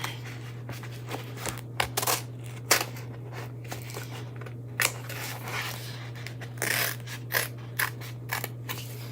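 Scissors snip apart paper stars for a patriotic chalk stencil craft, a series of short crisp cuts spaced irregularly over a steady low electrical hum in a quiet room.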